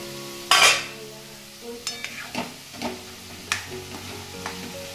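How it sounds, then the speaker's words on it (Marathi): Onion frying in a pan for pav bhaji, a low steady sizzle broken by several clinks and scrapes of a spoon stirring against the pan, no voices. "कांदा, कांदा फ्राय होते"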